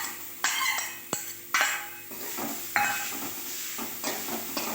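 Grated coconut being stirred in a pan over a low flame: a spoon scrapes and clinks against the metal in irregular strokes, with a faint sizzle beneath and no voices.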